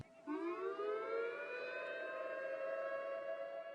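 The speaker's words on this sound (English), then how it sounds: "From the moment of the first siren blast at 6 a.m., folks throughout the globe were watching and waiting" A civil defense tsunami warning siren sounds one long blast, its wailing tone climbing quickly in pitch and then holding steady and loud from a distance.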